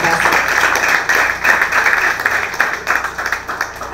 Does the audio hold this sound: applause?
yes